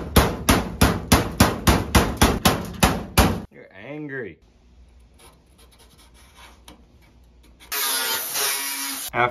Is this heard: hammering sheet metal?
yes